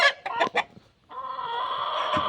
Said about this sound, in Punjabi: ਇਹ ਆਪਣਾ ਮੁਰਗ ਅੰਡਰਟੇਕਰ